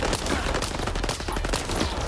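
Enemy gunfire in S.T.A.L.K.E.R. 2 crackles in rapid, dense bursts, a continuous volley of shots heard fairly close and loud for the whole stretch.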